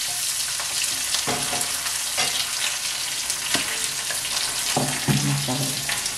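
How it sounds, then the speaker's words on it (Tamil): Garlic and onion fry in a pan for a garlic gravy, giving a steady, close sizzle with occasional metal spoon clicks and scrapes as they are stirred. "பூண்டு வெங்காயம் கொஞ்சம் ஃப்ரை"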